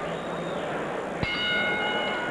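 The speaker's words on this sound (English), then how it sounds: "Bell for round 3." Boxing bell struck once to open round 3 of an IBA 108-pound title fight, a sharp clang ringing on with a sustained metallic tone over a murmuring arena crowd.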